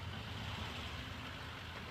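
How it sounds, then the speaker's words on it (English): A Bagby Farms truck goes by on a road beside the rail line in Cohutta, Georgia, its engine a steady, fairly faint rumble heard from some distance with no voices over it. "there goes the Bagby Farms truck, B-A-G-B-Y"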